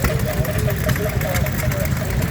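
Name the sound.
McCormick Dairy 1.5 horsepower engine driving a grain mill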